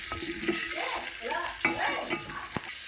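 Garlic and curry leaves fry in a hot pan with a steady, close sizzle, broken by scraping stirs and small clicks as the spatula moves them around.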